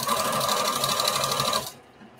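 A sewing machine stitches a patchwork bandana T-shirt dress with a fast, even mechanical whir that runs steadily and then stops abruptly, leaving near silence.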